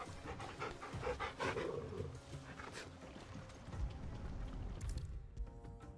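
A dog pants steadily and close by in Final Fantasy XVI, a quick rhythmic huffing that runs throughout, with faint game ambience and light footfall-like knocks underneath.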